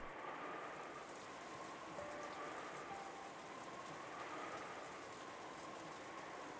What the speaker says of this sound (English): you couldn't ignore the sound of the rain sneaking into the dining hall.